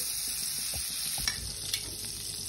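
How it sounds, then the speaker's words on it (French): Fine semolina being stirred into melted butter in a pan for panjeeri, a quiet, steady sizzle with soft scraping strokes and a couple of light taps. "je rajoute un petit peu de semoule incorporé dans le beurre"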